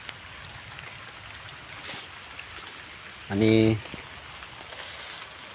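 Night rain falling in Konkan, a soft steady patter of drops on surfaces that continues evenly throughout, with a brief louder tonal burst midway and a voice speaking briefly.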